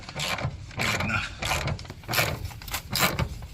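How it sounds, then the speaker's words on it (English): A coupling nut being tightened onto a seatbelt bolt thread during Ford F250 nerf bar installation: a series of close, rapid ratcheting clicks in several short bursts. "thread, coupling, nut onto the thread in the bolt, tighten the coupling nut"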